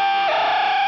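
A guitar harmonic rings out, then a flicked floating tremolo bar makes it warble in a fast chirping flutter, a cricket-like effect. The tone is bright and sustained, close and fairly loud, with no voices.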